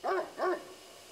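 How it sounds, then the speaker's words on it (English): Dog howling nearby in the video game Death Mark: two short, mournful, wavering cries in quick succession, fairly close and clear, with no speech. "I can hear a dog howl from nearby."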